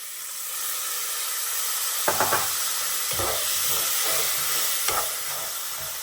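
Lemon juice poured into a hot pan of lemon rice tempering sets off a steady, loud sizzle and hiss, with a few sharp crackling bursts and spatters as the liquid hits the oil.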